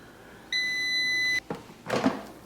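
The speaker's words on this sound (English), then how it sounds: "we're going to wait for the final beep" An air fryer finishing a batch of oil-free roasted chickpeas gives one long, steady electronic beep close by, followed by a brief thud and a rustling clatter as the appliance is handled.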